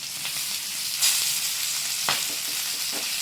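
Fish pieces for a soft fish fry sizzle in oil in a pan, a continuous bright hiss with two louder bursts of spitting as pieces are moved around.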